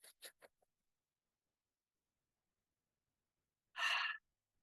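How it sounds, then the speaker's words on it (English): Three quick, short sniffs through the nose, then a pause and a longer breathy inhale or sigh, close and quiet. "just like a little bunny would sniff, you're taking in really short inhales"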